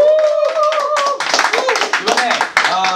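A few people clap quickly and unevenly, close by, while voices talk and call out over the clapping.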